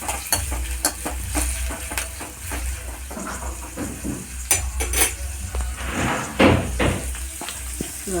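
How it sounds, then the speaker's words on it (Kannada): Onions fry in hot oil in a pan with a constant close sizzle, broken by repeated scraping and clinking as a utensil stirs against the metal. "ಸ್ವಲ್ಪ ಅದು ಗೋಲ್ಡನ್ ಬ್ರೌನ್ ಬರೋ ತನಕ ಸ್ವಲ್ಪ ಎಣ್ಣೆಯಲ್ಲಿ ಹುರಿತಾ ಇದೆ"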